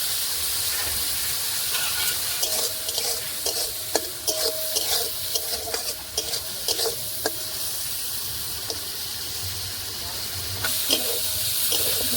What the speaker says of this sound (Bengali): তেলটা গরম হয়ে গেছে, দিয়ে দেবো চিংড়ি মাছ।